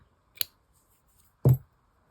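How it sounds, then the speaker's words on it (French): Scissors snipping cotton tatting threads on a finished flower, two separate close clicks, a light one followed by a fuller snip about a second later, in a quiet room. "Je peux venir couper les fils"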